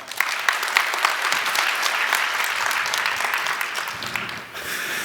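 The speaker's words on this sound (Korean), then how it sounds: "큰 박수 부탁드립니다" A conference audience gives a big round of applause after a business talk on AI, thick continuous clapping that stays level and then dips briefly near the end before picking back up.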